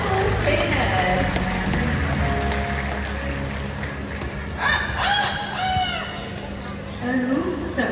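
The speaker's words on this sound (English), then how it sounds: "A rooster." Rooster crowing in a park during a bird presentation, several drawn-out calls rising over a low background hum, with people talking nearby.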